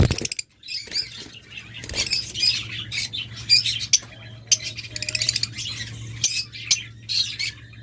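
A pair of yellow-collared birds gives repeated harsh, high squawks and chattering calls close by, in short irregular bursts over a steady low hum.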